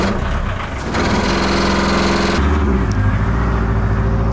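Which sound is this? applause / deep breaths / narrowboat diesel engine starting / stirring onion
narrowboat diesel engine starting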